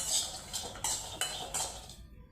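A spoon scraping and stirring idli podi ingredients as they are dry-sautéed in a pan, four or five close, brisk strokes in steady rhythm with no talking.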